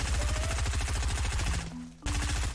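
Steady rapid gunfire in Fortnite, aimed into a bush, rattles in a fast even rhythm, pausing briefly before resuming, with no voices.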